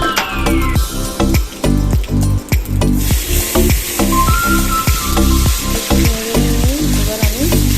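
Tomatoes hit hot oil in a wok already holding dried chillies, cumin and cardamom, crackling loudly with a rhythmic scrape-and-stir pattern that repeats through the clip, close and without speech.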